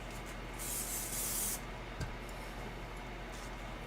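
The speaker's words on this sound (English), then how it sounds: "I'm going to spray the wrong side of this." A steady hiss of an aerosol spray adhesive can spraying the wrong side of fabric for about a second, then a brief tap and quiet room tone.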